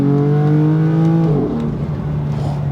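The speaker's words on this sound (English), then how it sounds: "let me just give it another second gear pull." A BMW M4 engine revs hard in second gear with a rising exhaust note, then drops back to a rough burbling idle, loud and close.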